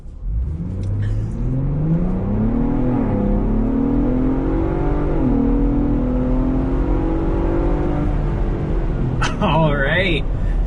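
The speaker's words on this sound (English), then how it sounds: "So let's go and start things out with a hard acceleration." A 2026 Ford Bronco Raptor accelerates hard, its engine note climbing steadily in a strong, sustained rise heard from inside the cabin, with a brief noise burst near the end.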